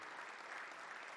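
Conference audience in a Microsoft Teams session hall clapping, a brief, dense burst of many hands heard at a steady level from a distance.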